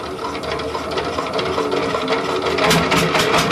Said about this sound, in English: Thus, the sound of the Shamfan engines, hence its popular name Tututu.